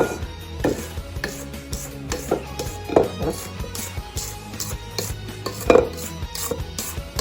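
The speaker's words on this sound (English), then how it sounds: "Now that it's creamy, I'm going to scrape down the sides." Spatula scraping around the sides of a metal mixing bowl of creamed cake batter, with repeated clinks and scrapes at an irregular rhythm, close and fairly quiet, no talking.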